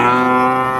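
A cow with her calf at a rural cattle market in Naogaon lets out one long, loud, sustained moo, close and unbroken for nearly a second.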